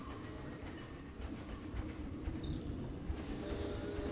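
A train in the Planet Zoo video game rolling along track through tunnels, a steady low rumble with faint rhythmic clicking and occasional thin high tones, moderately quiet.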